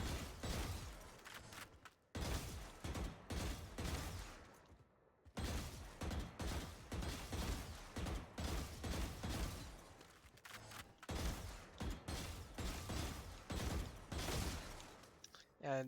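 Short bursts of gunfire in VALORANT while strafing, repeated clusters of sharp shots broken by brief silent gaps, fairly faint overall.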